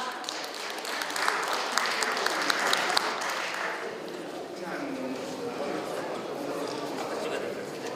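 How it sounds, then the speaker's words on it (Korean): A crowd at a ceremony marking a broadcaster's opening claps warmly, sustained and moderately loud. The applause swells and then eases, while voices carry on underneath. "뜨거운 박수 부탁드리겠습니다"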